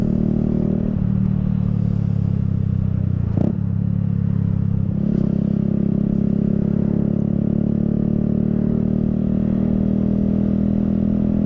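A motorcycle being ridden on a UK road gives a steady, close engine drone for the whole stretch, with a brief clatter partway through and no talking.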